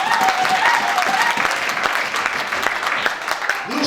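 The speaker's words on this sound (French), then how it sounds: "Est-ce qu'on peut acclamer le Saint-Esprit?" A church congregation bursts into steady applause and cheering acclaiming the Holy Spirit, a dense, loud wash of clapping that carries on without a break.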